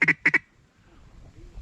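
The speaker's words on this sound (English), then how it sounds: "That's a big duck, whatever she's getting." A duck in a flooded Arkansas rice field quacks twice in quick, loud, close bursts during a hunt, followed by quiet outdoor background.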